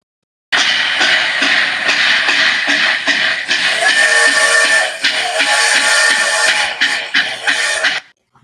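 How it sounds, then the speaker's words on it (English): A train rumbles past with a loud, continuous, broadband roar and a faint rhythmic clatter running through it, then cuts off abruptly. "That was a train."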